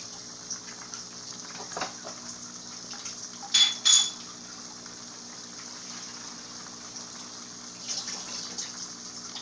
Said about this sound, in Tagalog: magdagdag ulit tayo ng tubig